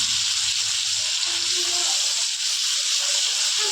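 Ginger, garlic and coriander paste dropped into hot oil for a chicken curry, giving a steady, bright sizzle and hiss close by with no talking.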